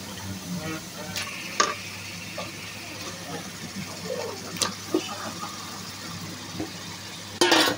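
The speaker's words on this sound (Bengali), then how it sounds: "মাংসগুলো দিয়ে এখন আমি এই মাংসটাকে মশলার সঙ্গে একটু কষিয়ে নেব" Chicken pieces fry in spiced masala with a soft continuous sizzle, scattered stirring scrapes and knocks, and a louder clatter near the end, heard up close.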